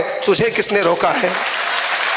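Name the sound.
audience applause at a gathering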